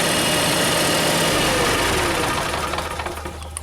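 A motorhome generator runs loud and steady right up close, a continuous low mechanical drone with a rough knocking vibration that eases slightly toward the end, with no talking.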